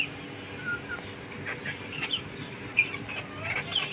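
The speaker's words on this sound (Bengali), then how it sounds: "এই যে হচ্ছে মুরগি" Free-range village chickens cluck and call softly around a yard at feeding time, scattered short calls over a low outdoor background.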